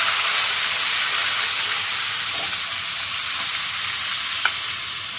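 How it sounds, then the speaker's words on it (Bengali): Fish pieces frying in oil tinted with turmeric, a loud, constant close sizzle and hiss with one brief utensil tick near the end, no talking. "মাছটাকে একটু ভেজে নিই, বেগুন দিয়ে রান্না করবো তো"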